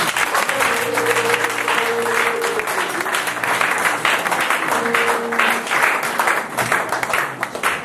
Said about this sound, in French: je voudrais que tu acclames le Seigneur